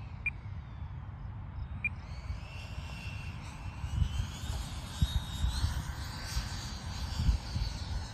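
A Mirage 2000 RC jet with an 80mm ducted fan flies overhead, its steady whining rush holding at a moderate distance, with a high tone that shifts as the jet passes.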